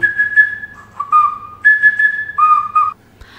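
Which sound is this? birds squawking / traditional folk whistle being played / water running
traditional folk whistle being played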